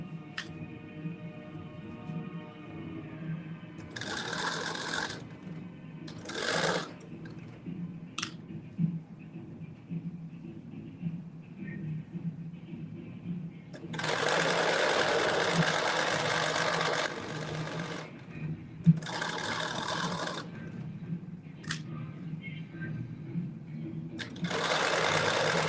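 A home sewing machine stitches around a bodice in steady whirring bursts, with several short runs and longer continuous passages separated by pauses, close and moderately loud.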